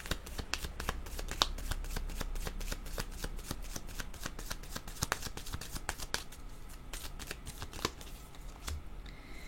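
Tarot cards shuffled by hand in a rapid, continuous riffle of crisp, close slaps and flutters, with no speech over them.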